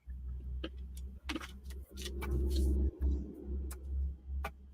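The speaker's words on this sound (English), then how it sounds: "he's driving his truck down there." A truck drives nearby outdoors and gives a low, continuous engine rumble that swells and fades, with scattered light clicks and ticks on top.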